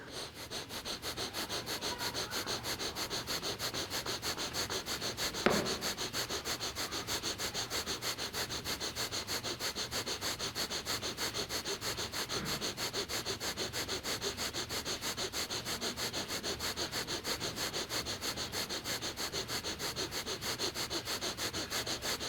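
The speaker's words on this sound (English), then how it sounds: "Otherwise, we're continuing breath of fire here." Breath of fire in a beginners' qigong workshop: rapid, rhythmic nasal breaths pump steadily for over twenty seconds at an even, fast pace, close and continuous, with one brief louder sniff partway through.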